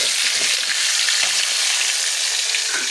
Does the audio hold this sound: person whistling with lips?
no